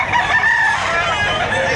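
A rooster crows loud and close among a group of chickens at a weekend market behind SM City Lipa in Batangas, one sustained crow filling the short moment.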